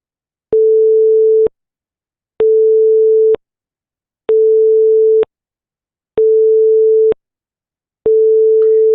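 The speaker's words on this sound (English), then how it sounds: "let me change this to a sine wave" A pure steady tone switches on and off in five even beeps, each about a second long with equal gaps, loud and isolated.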